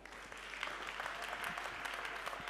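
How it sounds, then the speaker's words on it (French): Applause from an audience at a community politics gathering, a steady dense patter of many hands at moderate distance, continuous for the whole stretch with no voices standing out. "Tonnerre d'applaudissements"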